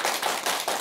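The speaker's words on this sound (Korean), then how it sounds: "박혜진 작가님께서 좋은 말씀해서 여러분 큰 박수 다시 부탁드리겠습니다" An audience claps for a writer at a Korean talk event, a loud, dense wash of hands clapping close by, swelling in a few pulses over a short span.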